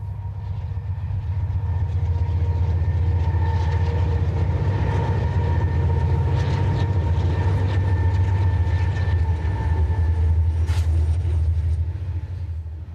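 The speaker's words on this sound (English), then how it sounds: "The diesels show off their beautiful paint schemes as they roll past the farms and fields of rural Kansas." Union Pacific diesel locomotives haul a coal train past farms and fields in rural Kansas, with a loud, steady engine rumble and rolling wheel noise sustained close by throughout, with no talking.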